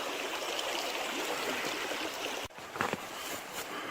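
A forest creek flowing near a clearing, a soft continuous trickling rush at moderate distance, briefly interrupted by a nearby thump and rustle.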